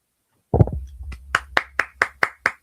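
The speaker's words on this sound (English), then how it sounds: "Applause for Hassam's collection." One person claps close by, starting with a quick flurry and then giving a steady run of single, evenly spaced claps in praise of a viewer's comic book collection.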